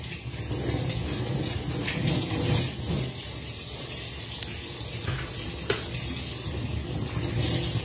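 Light rain falls in a steady, close patter with splashing water and dripping, a continuous hiss broken by occasional small knocks.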